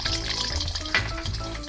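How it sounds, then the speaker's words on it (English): An egg dropped into hot oil sizzles in a loud, steady hiss with bubbling crackle and one brief sharper spatter partway through. "You see that sizzling sound?"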